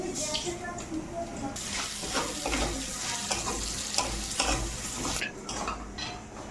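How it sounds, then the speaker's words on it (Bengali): Lentils sizzle and crackle as they fry in a pan, with a spoon scraping and stirring at intervals throughout. "এবার তুলে ডালটা একটু ভেজে নেব"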